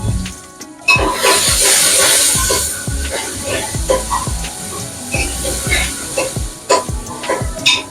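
Garlic, onion and tomato with curry leaves and turmeric sizzling in hot oil for a Kathiyawadi-style urad dal, loud crackling frying close by with clattering stirring and bursts of hiss.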